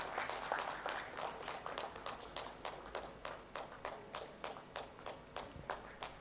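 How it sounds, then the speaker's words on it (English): Applause from an audience at the Odisha Tex 2025 industrial conference opening, a steady patter of many hands that swells early and then fades into a thinner scatter of claps. "That deserves a big round of applause"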